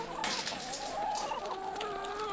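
A flock of chickens clucks and murmurs continuously, overlapping calls in a steady farmyard chorus with no talk.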